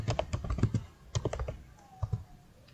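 Keys clatter on a computer keyboard as a CLI router command is typed during RIP version 2 routing setup, two quick bursts of close, crisp clicks separated by a short pause.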